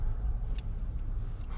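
A 2017 Chevrolet Cruze engine revving under acceleration on a road, a low, steady rumble heard from inside the car, moderately quiet with a faint high tick or two over the drone.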